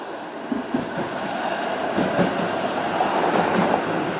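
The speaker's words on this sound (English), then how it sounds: "So there's the streetcar I was on." A Toronto streetcar bound for Kingston rolls past on Queen Street East in the Beaches neighbourhood, a loud, steady rumble of wheels on rail with faint clicks and squeals, close by and without speech.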